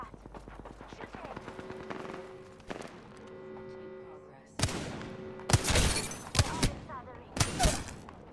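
Gunfire in the Apex Legends video game, with sharp loud bursts of shots in the second half over earlier game sounds and talk.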